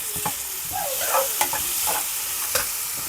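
Green chilies frying in oil for stuffed eggplant sizzle steadily close up while a spoon stirs and scrapes the pan in several distinct strokes, with no voices.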